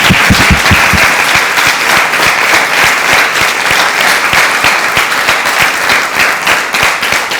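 Loud, close applause from a café audience as someone is called up to the microphone, with a few distinct claps at first, then steady massed clapping throughout.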